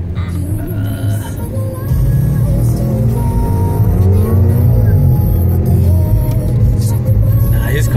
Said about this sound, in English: His car is probably pretty loud